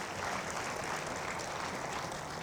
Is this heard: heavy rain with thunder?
no